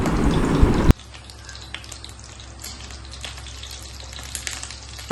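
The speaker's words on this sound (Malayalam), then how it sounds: "വെളിച്ചെണ്ണ ഒന്ന് ചൂടായി വരുമ്പോഴത്തേക്ക് അതിലേക്ക് കടുകിട്ട് പൊട്ടിച്ചു കൊടുക്കാം" Mustard seeds splutter in hot coconut oil in a pan, starting with a loud burst of sizzling that drops to a quieter bed of scattered crackles and small pops.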